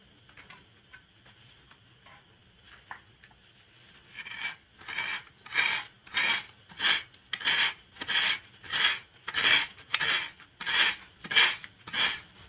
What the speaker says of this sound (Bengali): এবার এই নারকেলটাকে কুড়বো।